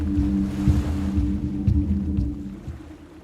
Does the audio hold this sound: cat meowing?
no